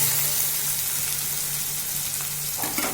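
Asafoetida drops into hot oil in a home kitchen pan, and a steady close sizzle of frying fills the clip, swelling into a brief louder crackle near the end.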